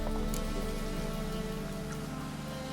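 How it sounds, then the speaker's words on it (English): Rain falls in The Witcher 3: Wild Hunt video game as a dense, even hiss of drops on surfaces, steady and unbroken, with no voices. "It rains. It pours."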